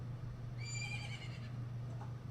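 Epona, the horse in a Zelda video game, gives a single whinnying neigh over a low steady hum of game audio, followed by a faint trailing sound.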